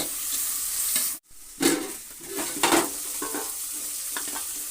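Tomatoes cooking in a sizzling tempering for semiya upma, a steady close frying hiss broken by a brief gap and a few louder stirring scrapes.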